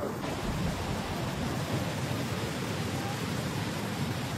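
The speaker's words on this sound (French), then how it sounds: "On entend le travail de l'eau." At the Hérisson waterfalls, rushing water makes a steady, dense roar. The broad, unbroken wash is loud and close, with no voices over it.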